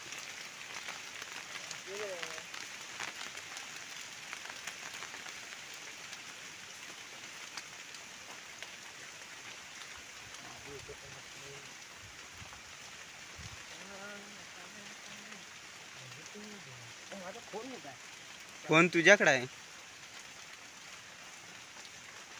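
Steady rain patters continuously on surfaces outdoors, a dense hiss under scattered casual talk, with a brief louder burst of voices near the end.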